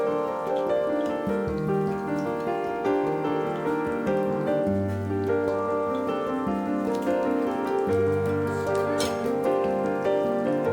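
Rain falls steadily at a home while nuggets are fried in the kitchen, a dense continuous patter that stays at an even level throughout with a tonal background layered over it.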